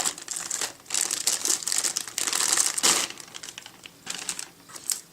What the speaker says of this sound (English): let's get the hard drive out of its plastic.